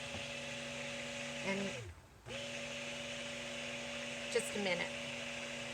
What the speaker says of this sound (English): I hate trying to talk over the stick blender.